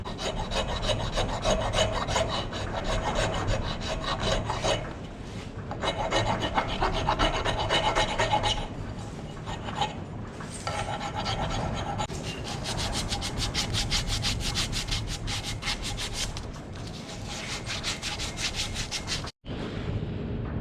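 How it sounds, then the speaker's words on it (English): Filing jagged wooden teeth off the handle of an old sledgehammer during a restoration, a loud close rasping scrape in steady back-and-forth strokes with brief pauses, no talking. "I'm gonna file those off too"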